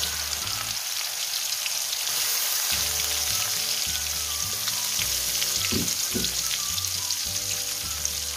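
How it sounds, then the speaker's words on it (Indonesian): Small dried anchovies fry steadily in hot oil, a loud continuous sizzle and crackle running alone throughout, with a few bursts of spitting and occasional stirring knocks in the pan. "mula-mula sekali saya nak goreng ikan bilis kita ni."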